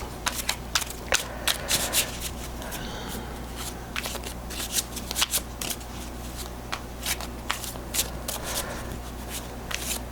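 Small tarot cards being shuffled by hand, a quick series of crisp riffling flutters and snaps close up, repeating in bursts with brief pauses, faint background voice at times.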